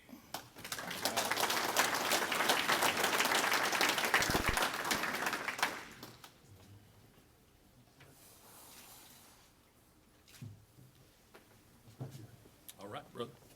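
Audience applause for a champion at a raceway awards banquet, a burst of clapping lasting about five seconds before fading into quiet room noise with scattered clatter and low voices.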